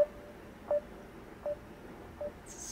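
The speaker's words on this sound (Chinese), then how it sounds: "就是在打电话等待时候的歌啦" A Facebook call-waiting ringtone plays as a soft repeating tone, four short evenly spaced beeps about three quarters of a second apart over faint background hiss, with no one speaking.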